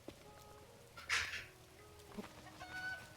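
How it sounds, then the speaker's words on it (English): A chicken in a Zelda video game gives a short, bright cluck and squawk, quiet behind soft background game ambience. "I found the chicken!"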